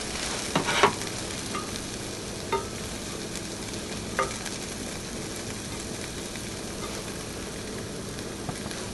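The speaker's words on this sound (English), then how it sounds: "We're going to toast them about 3 minutes." Breadcrumbs toast in butter in a pan, giving a steady, even sizzle with a few soft stirring clicks near the start, close and moderate in level.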